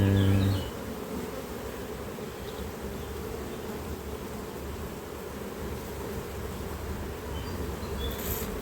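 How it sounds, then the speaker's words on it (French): Many honey bees buzz steadily in an open beehive, a dense continuous drone up close with no voices. "Beaucoup d'abeilles, pas évident."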